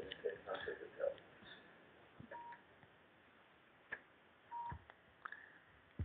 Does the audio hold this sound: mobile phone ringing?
yes